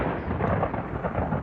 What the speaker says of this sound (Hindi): जोर की बिजली कड़की।